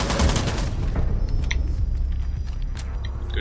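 Gunfire from a gunfight in the video game Rainbow Six Siege, with bursts of shots and booms over a steady low rumble, continuous and fairly loud throughout.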